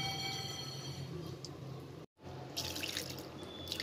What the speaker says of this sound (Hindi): ये टंकी का पानी है, ये मैं अलग से भरती हूँ वो पानी है।